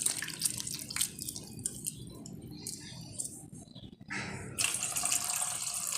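Bitter gourd (karola) is rinsed in water, with splashing, trickling and dripping that comes in uneven bursts, pauses briefly, then swells into a fuller, steadier wash.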